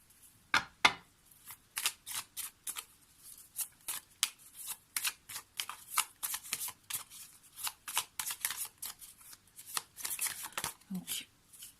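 Lenormand cards are shuffled by hand in a long run of crisp, rapid riffling bursts, close and clear, with short pauses between the flurries.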